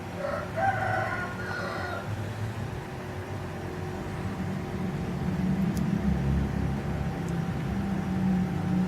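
Rooster crowing before sunrise in Chiang Mai, Thailand: a few clear crows in the first two seconds, then a steady low hum of distant traffic and morning ambience.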